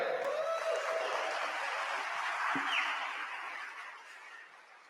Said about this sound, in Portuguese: salva de palmas pro Lepera